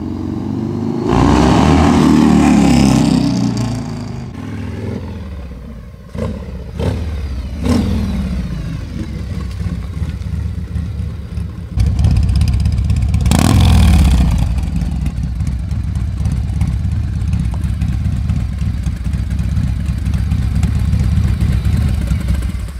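A 1991 Harley-Davidson FXLR with an 80 cubic inch Evolution V-twin revs loudly up close, its throaty engine note rising and falling over a steady idle, with mechanical clatter and a sharp blip midway.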